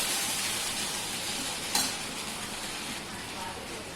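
Okra being stirred in a pan as a quick Indian vegetable dish with chilli powder, a soft continuous sizzle and scraping with one light metallic clink partway through, no voices.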